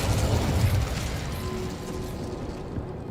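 Incendio fire spell cast in the Hogwarts Legacy video game, a deep rumbling whoosh of flame that swells loudly at first and then settles into a steady roar.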